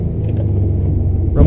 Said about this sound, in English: Rumble strips.